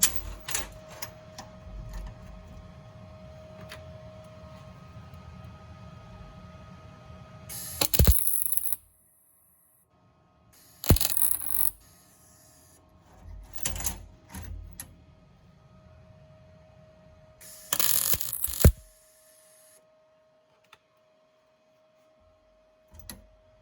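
A part being welded shut while making swivels, heard as four separate bursts of harsh arc crackle, each lasting about a second, with quiet gaps between them over a low background hum.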